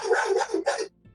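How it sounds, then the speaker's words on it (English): A dog barking at other dogs behind a door, giving three or four quick, loud, close barks in a rapid burst before stopping abruptly. "My dog has opinions about dogs on the other side of the door"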